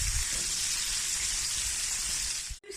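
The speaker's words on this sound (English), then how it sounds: "Now my mom's frying the chicken because it's too dangerous for me." Hot oil sizzles steadily and close by as chicken fries, a continuous crackling hiss that cuts off abruptly near the end.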